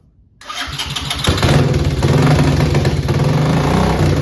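A 1984 Honda TRX 200 ATV engine with dirt in the carburetor cranks and catches, then runs loudly and roughly with an uneven, sputtering idle, close by and without talk.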